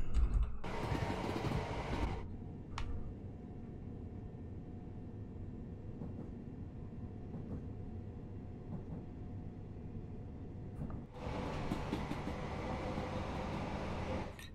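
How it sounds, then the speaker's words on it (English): A Gatwick Express train on a London commuter route in Train Sim World 2 rushes past in two loud, broadband bursts at the start and end, with a quieter rail rumble between them. "Ooh, nice. Gatwick Express."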